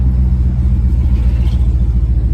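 A 1968 Lincoln Continental's engine heard from inside while driving, a loud steady low rumble with slight surges as the transmission shifts and kicks down, no voices.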